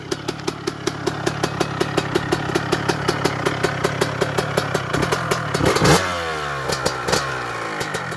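Derbi motorcycle engine running nearby, a rapid regular popping two-stroke beat with a brief rev near the end, heard alone without talk.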